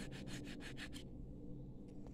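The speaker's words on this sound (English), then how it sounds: "And what I do is I file first, I sand, and then I polish." A brass bangle being hand-filed: about six quick, rhythmic rasping strokes over the first second, close and clear, then the strokes stop and only quiet room noise remains.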